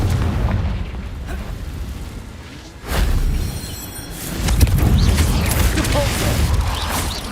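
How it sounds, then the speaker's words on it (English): In Hogwarts Legacy, a Confringo explosion spell goes off amid a duel, with booming blasts and bursts around the three- and five-second marks over mechanical rumble and combat effects. "Confringo."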